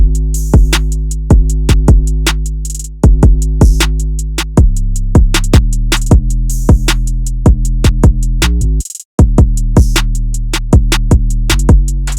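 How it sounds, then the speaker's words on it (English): A hip-hop beat plays loud and steady, with booming 808 bass notes and hard-hitting kick drums punching in a regular rhythm, briefly dropping out for a moment near the end. "All of these drums put together sound like this."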